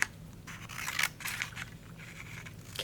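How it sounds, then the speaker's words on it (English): Scissors cut long strips down a sheet of green paper for craft grass, a steady run of close, crisp snips and slicing rasps with no talking. "just keep cutting long strips all the way down the piece of paper"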